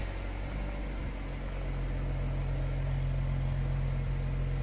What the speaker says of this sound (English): We're gonna pick up an exhaust tune from the back.